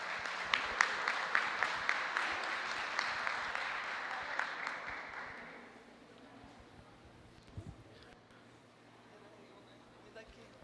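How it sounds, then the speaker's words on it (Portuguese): Audience applause for a woman panel presenter at a seminar on gender diversity in basic education, dense clapping for about five seconds before fading into room noise with faint speech. "uma salva de palmas para a nossa palestrante"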